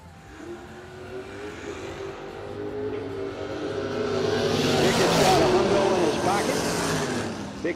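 A '74 Duster and a '27 Ford Roadster launch down a drag strip, engines swelling into a loud roar that builds to a peak near the end, with announcer talk over it.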